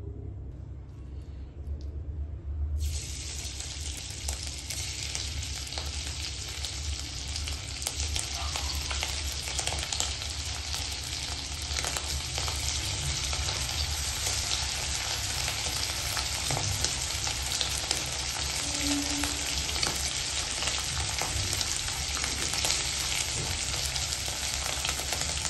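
Sliced chicken coated in cornflour and salt sizzles in a hot wok, a steady, loud crackling hiss that starts suddenly after a quiet moment and continues evenly over a low background rumble.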